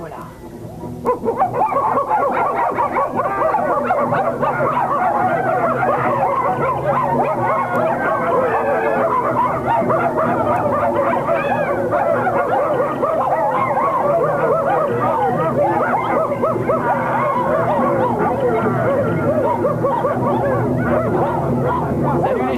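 A pack of red dogs (dholes) in a French-dubbed Jungle Book cartoon barks, yips and howls continuously and loudly, a dense chorus that runs throughout with voices mixed in.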